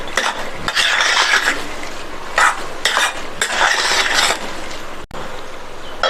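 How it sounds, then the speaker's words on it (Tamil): Upma being stirred in a pan after ghee-roasted peanuts are added, with close, scraping strokes in repeated bursts and short pauses between them. No one speaks. "வேர்க்கடலையை சேர்த்துட்டு நல்லா ஒரு தடவை மிக்ஸ் பண்ணி விட்டுட்டு"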